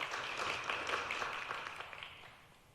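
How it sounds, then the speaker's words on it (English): A conference audience at the 2021 Yushan Forum in Taiwan gives warm applause to welcome a chairman to the stage, fairly quiet and distant clapping that fades toward the end. "Please welcome Chairman Xiao with a warm round of applause."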